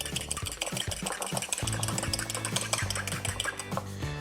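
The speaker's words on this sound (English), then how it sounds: "Next, lightly whisk in 2 whole eggs." A whisk beats two whole eggs into blondie batter in a bowl, giving fast, steady rhythmic clicking and tapping against the bowl, close and fairly quiet, with faint tonal background music.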